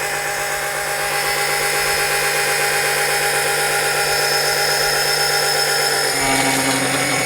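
A small electric oil extractor pump drawing engine oil up through a car's dipstick tube, running as a steady loud motor whine with a slight shift in tone near the end, no speech.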